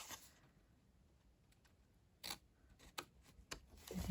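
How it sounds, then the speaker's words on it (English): Small snips into paper card stock while making a pansy-themed gift box: a few quiet, sparse clicks of scissors closing, with soft handling rustles between them. "little tiny diagonal cut just to make the closure easier"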